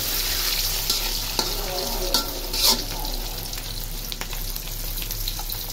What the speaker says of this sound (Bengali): ডিমগুলো কিন্তু একেবারে অনেক ফুটতেছে, তো আমি ভয় পাইতেছি ডিম ফুটে নিয়ে আবার আমার গায়ে উঠে পড়ে।